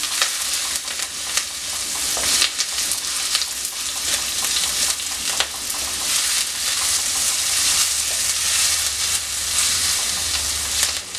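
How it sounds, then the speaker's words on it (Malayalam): Sliced onions with curry leaves sauté in hot oil in a pan for a potato and prawn stir-fry, a loud, steady close sizzle with occasional stirring scrapes and no talk. "സവോള ഒന്ന് ചെറുതായിട്ട് വഴറ്റിയെടുക്കണം"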